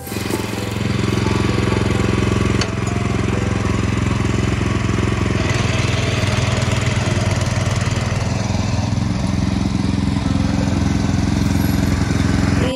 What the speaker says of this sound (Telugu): ఇంకా పవర్ వీడర్ని స్టార్ట్ చేసాం.